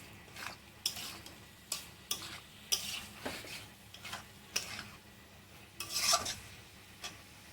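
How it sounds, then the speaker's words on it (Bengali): Potatoes, ridge gourd and soya chunks being stirred into a cooked spice paste for a curry: a spoon scrapes the pan in repeated sharp strokes over a faint sizzle, with no talking. "দেখো খুব সুন্দর করে নাড়া নেড়ে নিয়ে"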